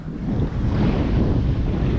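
Sea waves and wind on an Andaman Sea shore at Koh Jum, Thailand, with a loud continuous roar of surf and wind buffeting close to the microphone, with no voices.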